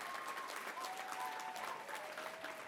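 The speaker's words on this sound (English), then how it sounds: "Give her a big round of applause." Applause from the audience at a student scholarship achievement benefit in San Francisco: a steady, fairly quiet patter of many hands, even in level throughout, with a faint tonal hum running underneath and no talking over it.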